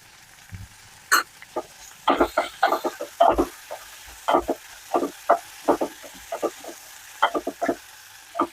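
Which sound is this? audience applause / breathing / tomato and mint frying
tomato and mint frying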